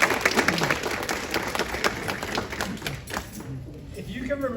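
An audience claps at a talk on upper cervical chiropractic care, a brisk crackle of hands that gradually thins and fades, with a voice speaking over the end.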